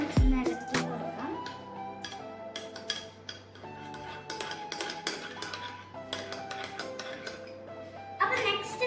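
Egg being stirred in a pan with a utensil, repeated light clinks and scrapes of metal against the pan, under steady talk.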